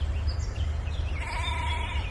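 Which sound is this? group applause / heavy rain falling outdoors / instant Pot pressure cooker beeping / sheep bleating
sheep bleating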